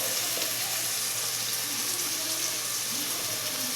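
Peanuts, urad dal and curry leaves frying in hot oil for chitranna, a steady, soft, continuous sizzle with faint crackles and no talking.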